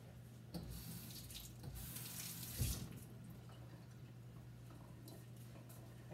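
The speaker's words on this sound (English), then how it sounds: "let me rinse the onion real quick." Tap water runs steadily into a kitchen sink while an onion is rinsed under it, a continuous close splashing rush with a brief louder splatter partway through.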